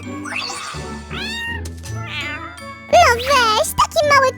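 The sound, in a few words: kitten meowing in animated video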